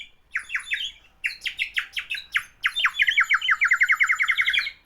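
A clay bird toy whistle blown in quick bursts of high, chirpy warbling notes, rising into a fast trilling run toward the end, heard alone and close.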